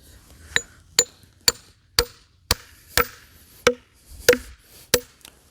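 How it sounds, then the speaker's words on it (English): A hammer drives steel splitting wedges into a log: eleven sharp metallic strikes at a steady, roughly half-second rhythm, each ringing briefly, close and loud. "I'm going to take a splitting wedge, start driving it in."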